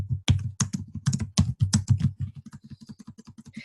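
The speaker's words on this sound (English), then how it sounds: "you can hear me clicking my keys" Computer keyboard keys clatter in a quick, uneven run of sharp clicks close up, with the typing slowing into lighter, evenly spaced taps toward the end.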